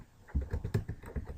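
Quiet, close clicking of keys on a computer keyboard, a quick irregular run of soft taps while web link code is typed.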